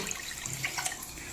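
A brief, steady pour of water into a clay cooking pot (chatti) for a murrel fish chilli curry, heard as a soft continuous splashing trickle lasting about a second, close and fairly quiet.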